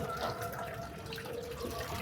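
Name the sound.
water pumped by motor pouring out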